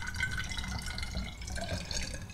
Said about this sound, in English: I added some water to the carafe here, and now let's just fill up the tank.